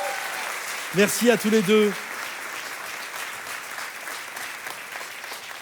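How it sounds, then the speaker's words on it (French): Church congregation applauding after a sermon call to clap, a steady spread of clapping through the room, with someone briefly speaking over it near the start before the applause continues alone. "Alors, est-ce qu'on peut les applaudir bien fort?"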